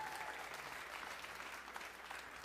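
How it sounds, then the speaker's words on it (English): Audience applause at a citizen project pitch competition, a steady wash of clapping from a crowd that holds at an even level for the full stretch, moderately distant. "Round of applause for the Tool Library team."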